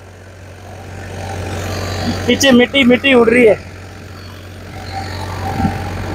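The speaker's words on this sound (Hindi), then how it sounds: "मात्र 50 RPM ड्रॉप करके चल रहा है ट्रैक्टर" A Farmtrac 60 Powermax tractor ploughing a field in first gear at about 1800 RPM gives a steady low engine drone throughout, with someone talking briefly over it.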